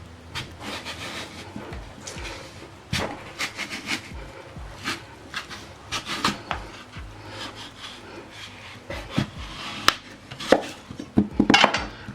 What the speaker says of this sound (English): then we're going to cut the sweet potato in half